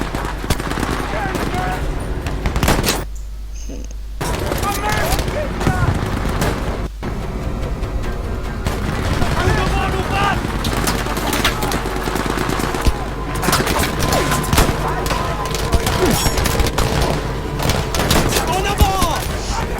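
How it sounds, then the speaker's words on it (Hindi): Heavy sustained gunfire in the Battlefield V campaign, dense automatic bursts and thuds running nearly nonstop with a brief lull near three seconds, loud and busy throughout. "यहाँ ऑलरेडी इतनी हेवी फायरिंग हो रही है"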